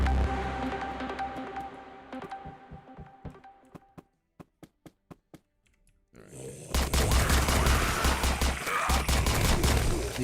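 Rapid bursts of AK assault rifle fire in the shooter game Arc Raiders, dense and loud, broken by a quieter stretch of single sharp clicks before heavy automatic firing resumes.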